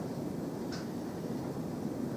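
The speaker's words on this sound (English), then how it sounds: "Excuse the wind noise in my shop." Faint, steady wind rumble buffets the microphone indoors, a low whooshing noise with no talking.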